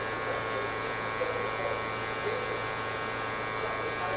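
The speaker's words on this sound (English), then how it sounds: "I'm just moving the clipper." An electric hair clipper buzzes steadily and close by while cutting a fade, a constant motor hum with no break across the whole stretch.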